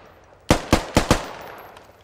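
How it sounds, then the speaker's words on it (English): Four sharp gunshots from a player firing in Squad ring out in quick, slightly uneven succession, loud and near against quiet surroundings, each shot trailing off in a short echo. "Dorf still taking pot shots every once in a while."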